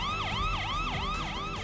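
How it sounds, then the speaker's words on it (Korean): An ambulance siren wails in a rapid repeating up-and-down pattern, loud and steady, with traffic noise underneath. "앰뷸런스."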